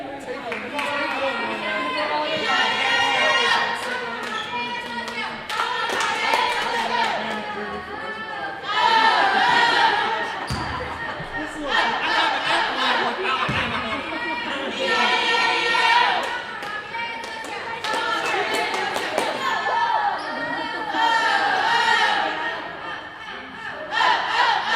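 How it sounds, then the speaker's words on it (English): A squad of cheerleaders performs a crowd cheer in a gym at an 8th grade basketball game, voices shouting in rhythmic bursts that echo through the hall with crowd chatter beneath. "our Lady Rockets are going to do a crowd cheer, or cheerleaders"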